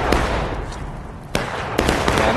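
Distant artillery cannon shots from a Civil War battle in the game War of Rights, with a couple of sharp booms over a rumbling battlefield background.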